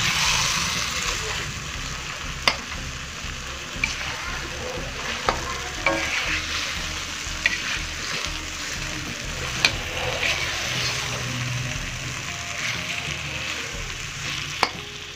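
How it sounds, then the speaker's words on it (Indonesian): Acehnese pomfret fish stir-fry with coconut milk being stirred slowly in a pan, a steady loud sizzle with occasional sharp utensil taps against the pan throughout, no talking. "Kita aduk secara perlahan ataupun pelan-pelan."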